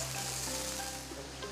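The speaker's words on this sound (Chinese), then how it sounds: "嘎嘎下锅以后哈，轻轻的给它煸" Pork pieces sizzle in plenty of hot lard in a pan, a steady dense crackle that stays loud and even throughout, with no voices.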